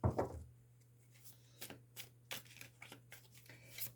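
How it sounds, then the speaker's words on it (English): A deck of tarot cards is shuffled by hand, producing a few soft, brief riffling bursts over a low steady hum, quiet and close with no talk. "I will put it back into the center of the deck and shuffle."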